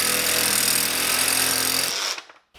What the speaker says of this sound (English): use your drill to zip in and out on these Allen wrench bolts